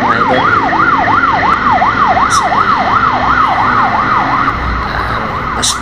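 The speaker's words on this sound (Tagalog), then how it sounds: "Dito giveaway muna tayo sa ambulansya" An ambulance siren wails loudly and close by on a road, sweeping up and down in a fast repeating yelp over steady traffic rumble.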